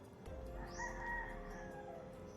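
A rooster crows once outdoors near a forest trap, a drawn-out rising-and-falling call at moderate distance over steady background noise.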